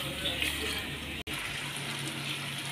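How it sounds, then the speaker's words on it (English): Water is poured from a tap-like stream into a pan of frying pepper goat meat, a steady loud gush with hissing throughout, briefly cut by a short gap midway. "I'm just going to add water to allow it to cook properly."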